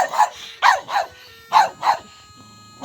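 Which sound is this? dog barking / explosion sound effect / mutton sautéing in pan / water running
dog barking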